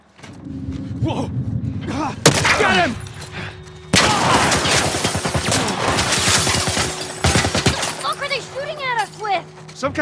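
Heavy bursts of military turret gunfire in The Last of Us Part 1 on PS5, rapid repeated impacts and crashes, loud and close, mixed with voices talking and shouting over the shooting.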